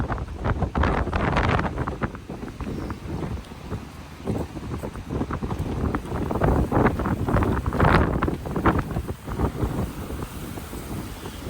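Strong wind roars across an outdoor police towing auction lot in Norfolk, buffeting the microphone in heavy, continuous gusts that swell and ease, loud and close with no voices.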